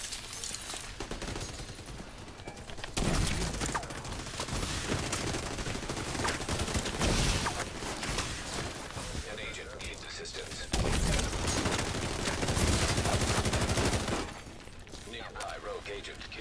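Loud, dense video-game gunfire roars in sustained bursts with a brief lull between them, fairly close. Voices talk underneath.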